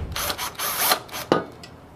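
A power drill drives supplied machine screws into a slide mounting bracket during assembly of a corner unit, giving short whirring bursts and a sharp click near the end, close and fairly loud, with no talking.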